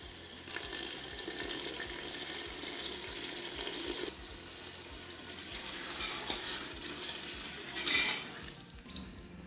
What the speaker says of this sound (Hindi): अब हम इसमें ऐड करेंगे 1 गिलास पानी